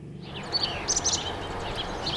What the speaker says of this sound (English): It sounds like any spring day out there. The songbirds singing, others chirping